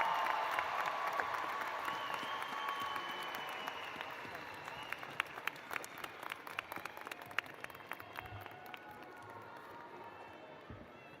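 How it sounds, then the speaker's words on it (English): Audience at the Ultimate Medical Academy spring commencement breaking into sustained applause with scattered cheers, a broad roar of many hands that gradually tapers, with a speaker's voice faintly present. "Another round of applause for Jackie Joyner-Kersee."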